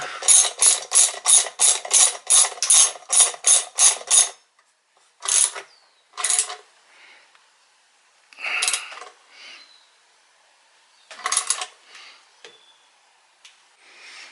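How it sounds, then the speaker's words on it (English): A ratchet tightens a bolt on a Honda CBR/VFR800 hybrid motorcycle frame, starting with a rapid run of loud, close clicks, then a few shorter separate bursts with quiet gaps between. "Now I can go ahead and continue to tighten this bolt here."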